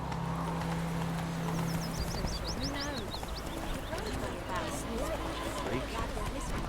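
Hooves of a horse galloping in The Witcher 3 video game drum in a quick, steady clip-clop, joined by a brief whinny and other game sounds, with voices heard over the action.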